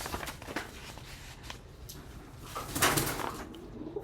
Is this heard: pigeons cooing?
yes